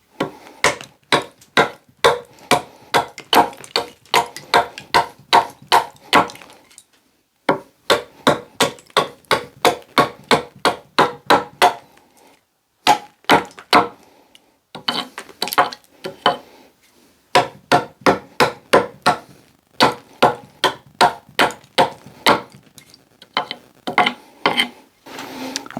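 Beavercraft AX1 carving axe chopping into wood to raise chips, a rapid series of sharp, close, loud strikes in bursts of about eight to twelve blows separated by short pauses, with no voice.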